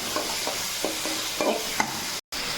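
Chickpeas being stirred in a hot pan with cumin and chili powder, a continuous sizzle broken by a few scraping strokes of the spoon, close by, no voices.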